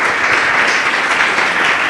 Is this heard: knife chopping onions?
no